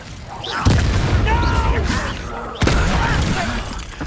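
Two heavy explosive blasts from the Confringo fire spell in Hogwarts Legacy, one about two seconds after the other, each a sharp crack with a rumbling tail over ongoing battle noise and voices.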